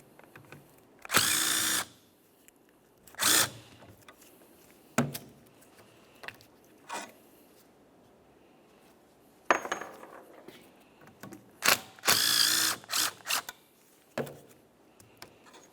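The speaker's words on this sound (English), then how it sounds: "we'll be continuing on to removing each of these 2 caliper slider bolts. To do that, we'll use a T50 Torx bit." A power drill driving a T50 Torx bit spins out the front brake caliper slider bolts on a 1994-2002 Dodge Ram 2500, in about eight loud, close bursts of varying length separated by short quiet gaps.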